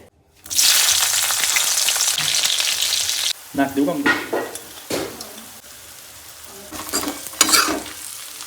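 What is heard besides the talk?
tempering onion, green chili and tomato in hot oil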